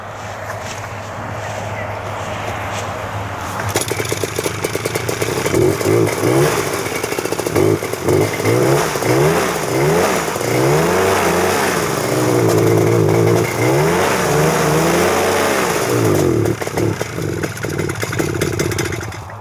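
A paramotor engine coughs to life and revs in rising and falling surges, a close, loud buzzing drone with wavering pitch that keeps running before cutting off near the end.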